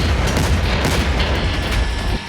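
A massive blast from a strike in Syria fills the air with a dense, loud, continuous roar and booming rumble that lasts for seconds before easing slightly at the end.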